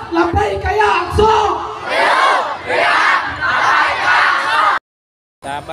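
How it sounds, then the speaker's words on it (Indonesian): A large crowd at a pro-Palestine rally chants in loud rhythmic waves of massed voices, repeated phrases swelling and falling before cutting off abruptly, then resuming. "ini adalah kerumunan massa ya"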